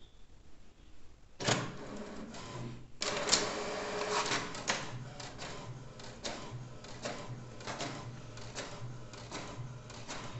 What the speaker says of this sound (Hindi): अब हम एक ब्लैक प्रिंट भी देते हैं और देख लेते हैं क्या ब्लैक कलर थोड़ा कुछ है